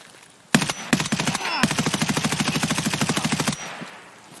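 Automatic gunfire from Escape from Tarkov: a couple of sharp opening shots, then a long, rapid, evenly paced burst lasting about two seconds, loud and close, ending abruptly into quiet.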